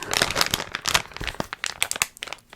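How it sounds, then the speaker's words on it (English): Plastic product packaging crinkles and crackles in close, busy bursts of rustling, with brief pauses between handlings, heard alone. "makes really good crinkling sounds, and I kept the package with it"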